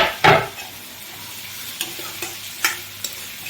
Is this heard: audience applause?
no